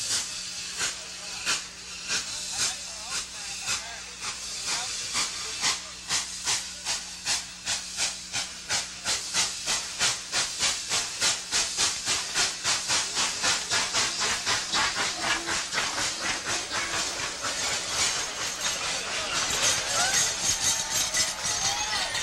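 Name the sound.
Dollywood Express steam train hissing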